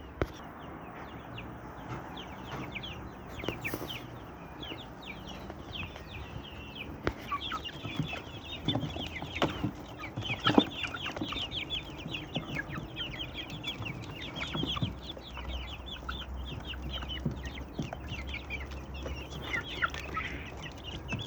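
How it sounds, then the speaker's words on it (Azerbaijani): A flock of farm chickens clucks softly and continuously, with scattered sharper calls and pecking sounds nearby, fairly quiet throughout. "Toyuqlar."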